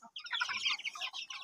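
Native chickens raised in the provinces clucking in a quick, close burst of chatter over a second or so, with no voices.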